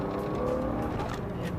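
A car engine, with the driver pressing the throttle, gives a steady low drone throughout, heard from inside the car with no talking. Its steering wheel has been shaking.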